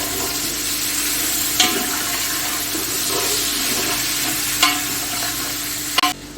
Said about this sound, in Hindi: इसी में जाएगा अदरक और लहसुन, और थोड़ी देर के लिए इसको भी कुक करूँगी।